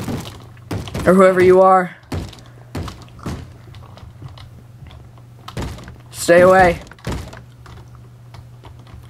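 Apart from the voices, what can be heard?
zombies banging on wooden doors in Minecraft video game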